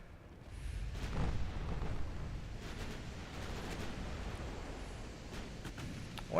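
Naval guns firing in the Ultimate Admiral Dreadnoughts battle game, distant booming blasts rolling over a steady rumbling sea wash, with several sharp reports scattered through and no talk.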